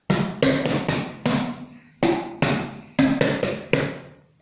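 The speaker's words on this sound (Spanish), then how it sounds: "Le puse nombre a cubabombos y son tarros de helado con diferente cantidad de agua." A homemade drum made of ice cream tubs holding different amounts of water is struck in a rhythmic pattern, sharp hollow thumps at slightly different pitches, each ringing briefly before decaying, close and loud with no talking.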